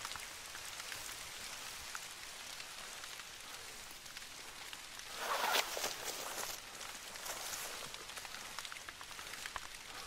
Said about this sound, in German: Und jetzt regnet es.